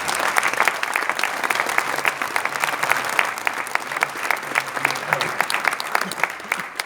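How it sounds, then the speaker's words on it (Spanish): A crowd applauds steadily, many hands clapping in a dense, continuous burst that stays loud throughout, with a few voices faintly underneath. "Así que vamos a recibir con un fuerte aplauso a Abel Basti."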